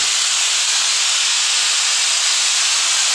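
A pressure cooker cooking pulao releases its whistle, a loud, steady, continuous jet of hissing steam filling the whole stretch without pause.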